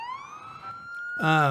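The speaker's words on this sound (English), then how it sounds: "So if you hear those sirens in the background" A siren wails with a rising, sustained tone at a parade, then a second harsher siren cuts in loudly near the end.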